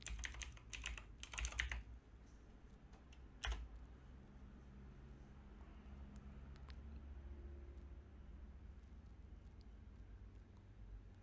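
A computer keyboard is typed on to enter a search in a Chrome browser: a quick close burst of key clicks at the start, one more isolated tap, then a quiet steady room hiss.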